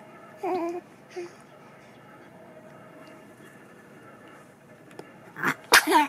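A newborn baby gives a couple of small sneezes, then a louder sharp sneeze near the end, close by in a quiet room.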